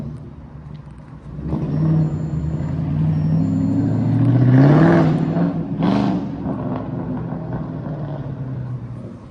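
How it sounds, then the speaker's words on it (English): A Lexus IS300 fitted with an angle kit, its supercharged engine running loudly and close by, with a rising and falling whine and revving surges and no talk over it. "Hear the supercharger. That thing's so loud."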